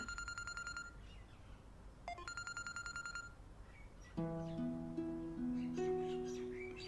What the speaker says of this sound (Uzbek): Telefoningiz jing'illayapti